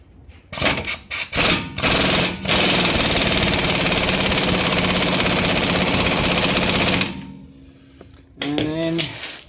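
On a Ford Figo's new wheel hub nut, an impact wrench gives a few short bursts and then one long loud rattling run of about five seconds. After it cuts off, clanks of metal tools follow.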